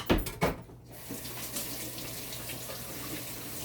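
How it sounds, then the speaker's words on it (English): Tap water runs steadily into a kitchen sink during handwashing, opening with a few louder splashes and clunks before settling into a constant close hiss. "Just wash my hands again."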